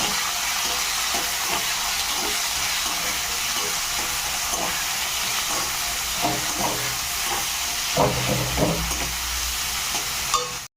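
Chopped onions fry in oil for a Bengali chicken dish, giving a steady close sizzling hiss throughout, with scattered soft scrapes and stirring knocks growing busier toward the end.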